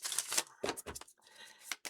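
A deck of tarot cards is shuffled up close, quick papery riffles and flutters in short bursts with brief pauses, fairly faint and without talk.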